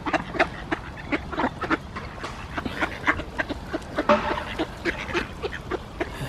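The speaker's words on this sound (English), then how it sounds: "Seagulls!" Gulls calling repeatedly outdoors, a run of sharp squawking cries in quick irregular succession, fairly close and clear, with a few squeals overlapping near the middle.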